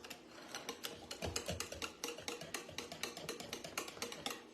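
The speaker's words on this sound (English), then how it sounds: "just take a little extra time and just whisk them in one at a time" A whisk beats eggs one at a time into boxed brownie batter in a bowl, making quick rhythmic ticks and clicks that repeat through the whole clip. The strokes are faint and no one speaks.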